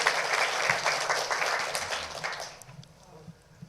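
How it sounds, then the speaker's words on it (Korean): A church congregation claps together in steady applause that fades away after about two and a half seconds, leaving scattered quiet sounds. "우리 박수로 우리 감사하겠습니다"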